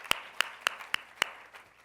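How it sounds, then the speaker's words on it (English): A few sharp, isolated hand claps, about five in a sparse row and then fading, at a volunteer awards ceremony. They sound thin and scattered rather than like full audience applause, with no talking. "And yes, we should clap for that too."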